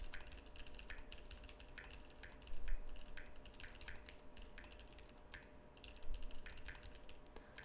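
Quiet typing on a computer keyboard, a steady run of soft key clicks with a few louder bursts, close up and without talk.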